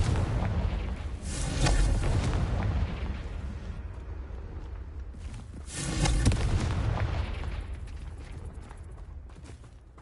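Two heavy blasts from the Confringo spell in Hogwarts Legacy, each a booming burst with a long rumbling tail, the first near two seconds in and the second near six, over a steady bed of game noise.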